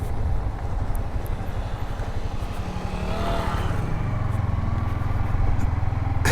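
A motorcycle engine runs steadily at the start of a road ride in rural Bangladesh, a close, continuous mid-pitched drone with wind rush and no talk.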